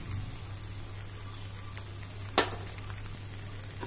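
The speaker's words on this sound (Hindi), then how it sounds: "अब हल्दी और नमक को अच्छी तरह से मिक्स कर लें, इसे 5 मिनट तक भूनेंगे" Okra masala with turmeric and salt frying in a pan: a steady, close sizzle throughout, broken once by a brief clatter.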